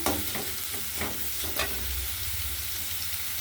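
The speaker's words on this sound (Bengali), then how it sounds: "এই চুলাতে আমি মাছ ভুনা করব সেই পেঁয়াজটা দিচ্ছি" Chopped onions fry in a pan on the stove as the base for a tomato fish curry, giving a steady close sizzle with a few soft stirring scrapes near the start and again around the middle.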